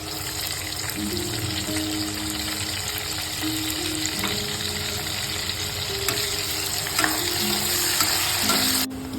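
Onion frying in hot oil with garlic and curry leaves in a kadhai, a continuous close sizzle with intermittent stirring clatter throughout.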